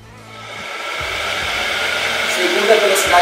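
A car's electric radiator cooling fan switches to its second speed, spinning up from quiet into a loud, steady whooshing roar with a mechanical hum underneath, up close.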